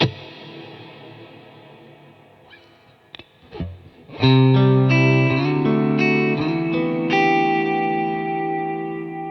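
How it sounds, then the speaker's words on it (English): Electric guitar through a Fender Tone Master Pro with a modulated ambient reverb set to zero pitch, sustained chords swelling into a lush, shimmering, wobbling wash that rings on after each strum, with no talking. "Now it's just acting as a modulated reverb."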